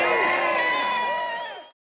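A crowd at a March for Australia rally in Brisbane, a sustained loud cheer and roar of many voices that holds steady, then cuts off abruptly after under two seconds.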